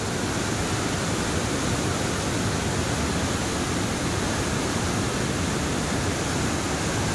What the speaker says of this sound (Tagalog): Dahil sa pagbagsak ng tubig na yan oh.